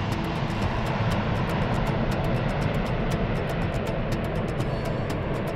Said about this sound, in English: the pilot pulls back on the column, rotates the airplane up, drags the tail down the runway, and then the airplane lifts off into the air.